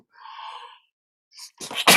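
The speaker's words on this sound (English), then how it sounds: "So I sneezed at him" A single sharp sneeze preceded by a brief nasal intake, loud and close, ending abruptly.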